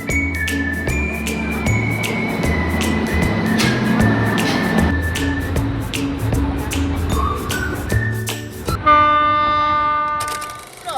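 A train near Porbandar rolls loudly on the tracks with repeated clattering wheel beats, and a horn sounds several times, with a long blast near the end.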